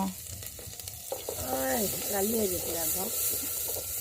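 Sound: frying in soybean oil

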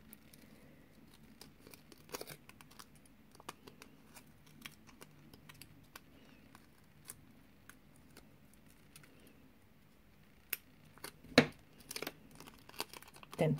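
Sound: cutting a nail form with scissors

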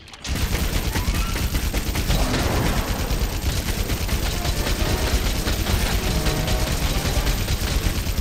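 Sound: Wyvern ammo firing in the video game Monster Hunter World

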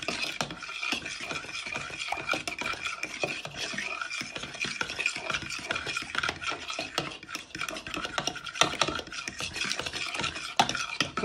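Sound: whisking eggs and milk in a bowl

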